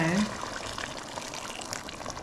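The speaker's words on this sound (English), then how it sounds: "I'm going to add in the water now" Water poured into a pot of chicken curry, a steady soft gushing pour that continues after a brief voice at the start.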